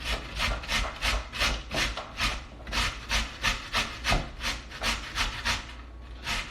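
Potatoes being grated for latkes on the thick side of a box grater, a steady series of about sixteen rhythmic rasping strokes, close and fairly loud, with no talking.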